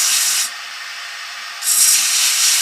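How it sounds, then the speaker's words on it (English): Bowl sander attachment flattening the bottom of a turned purpleheart wooden bowl, heard as a loud close-up hissing rub that eases off for about a second in the middle and then returns at full strength. "use your bowl sander attachment to sand off"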